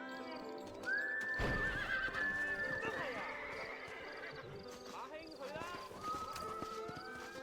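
A horse whinnies shrilly over hoofbeats and rumbling effects in Red Dead Redemption, with a second neigh later and a voice talking underneath.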